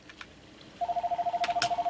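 A telephone rings in a Minecraft DayZ survival game, a close, steady pulsing electronic ring that starts partway through after a few soft clicks, with no talking.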